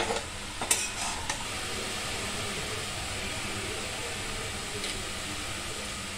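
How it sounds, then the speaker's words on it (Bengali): Sandwich filling stirred in a frying pan, a steady soft sizzle with a few scraping clinks of a utensil against the pan near the start, then continuous even frying noise. "একটু নাড়াচাড়া করে নাও।"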